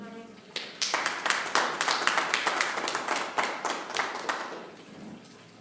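A church congregation claps along in a lively, uneven burst of handclaps that builds quickly and stays steady for several seconds before tapering off, with no talking over it.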